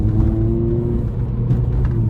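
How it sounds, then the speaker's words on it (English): Close engine drone from a Honda Civic Type R FN2 with a fault, held at a high, steady rev with a continuous hum and faint whine. "It still seems to be revving high"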